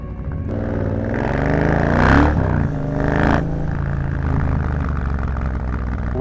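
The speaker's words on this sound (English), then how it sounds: "The exhaust sound has completely transformed the sound of the motorcycle and the feel of the ride itself." A Triumph Bobber motorcycle with a modified exhaust cruising on a highway, its steady engine drone rising into two louder revving swells midway before settling back to an even roar, with no talking.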